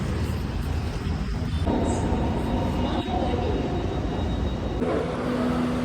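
A train pulling into Tripunithura station rumbles steadily and close, with metallic wheel and carriage noise, brief squeals and shifting tones as it slows.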